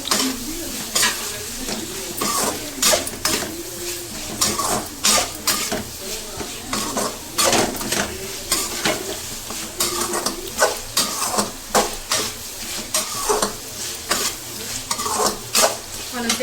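Potatoes frying in a pan with masala for an aloo shimla mirch sabji, stirred repeatedly so a steady sizzle runs under frequent scraping strokes of a spoon against the pan, close and fairly loud.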